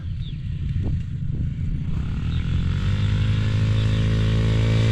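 A Can-Am DS 250 ATV fitted with a new clutch kit revs up loudly and close by. The engine climbs quickly from a rough idle with a couple of blips into a sustained high-RPM drone.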